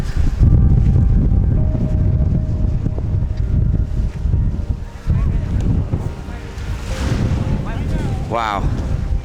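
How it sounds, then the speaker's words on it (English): Strong Antarctic wind buffets the microphone in a steady loud roar, with gusty low rumble throughout and a brief high squeal near the end. "Oh my god, the wind."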